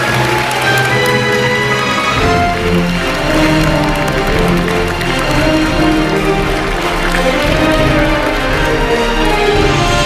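A large outdoor crowd in Seoul applauds to welcome President Moon Jae-in at an event marking his government's first 100 days, with loud, dense, continuous clapping and a musical backdrop.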